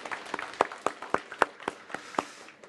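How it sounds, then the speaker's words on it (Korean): Scattered hand claps from a small church congregation, a dozen or so distinct sharp claps at uneven intervals, fairly close and sparse rather than a full ovation. "다시 한번 또 큰 박수 격려하겠습니다"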